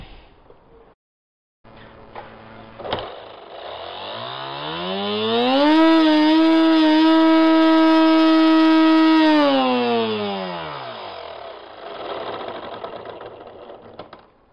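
On the bench, an X UAV model plane's electric motor and gearbox spin up to a loud, whining gear-driven buzz, hold near full power for several seconds, then wind back down. A fairly long, close run with no talking.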